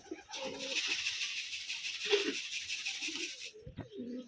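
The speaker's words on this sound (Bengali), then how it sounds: "অনেক সুন্দর লাগছে সবগুলো কবুতরকেই" A few pigeons coo in short low bursts at a Rajshahi pigeon loft while a broad steady hiss runs for most of the stretch, ending with a brief sharp knock.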